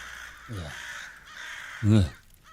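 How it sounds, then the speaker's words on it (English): Crows cawing in a tabletop role-playing game scene of a blackened rookery, two loud harsh caws a second or so apart, close and clear over a low background. "You see crows picking at the bodies of the dead."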